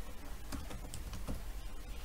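Computer keyboard typing while entering text in a Canva graphic design project, a run of soft, close key clicks at an uneven pace with no talking.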